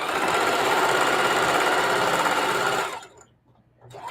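A sewing machine stitches a pillowcase at fast speed, giving a loud, close, continuous mechanical whir for about three seconds before it stops abruptly. No one talks.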